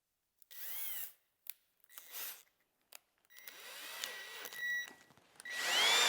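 A power drill fitted with a Vix self-centering bit boring a hole for router table accessories, several short whirring bursts with pauses between them, building to a longer whine, close and moderately loud.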